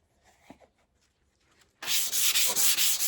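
A sanding block rubs back and forth across a wooden guitar fretboard, starting after a quiet stretch with a few faint knocks, then loud, close, steady abrasive strokes in a regular rhythm.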